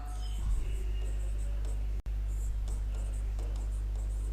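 Chalk or marker scratches on a classroom board during a biology lesson, in short soft strokes and taps over a steady low hum, with a teacher's quiet speech.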